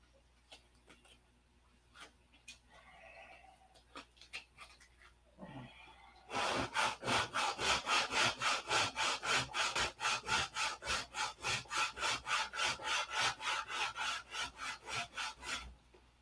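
Sandpaper rubbing gummy, mushy wood, first a few light scattered scrapes, then a fast steady run of loud rhythmic back-and-forth strokes close to the microphone.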